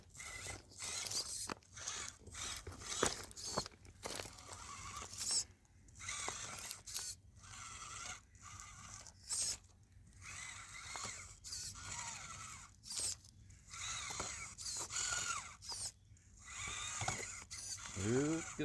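A small FMS FCX18 RC crawler with a brushless motor and Vitrazi wheels and tires drives over terrain, giving quiet, stop-start bursts of whirring gear and motor noise with clicks and short pauses between them.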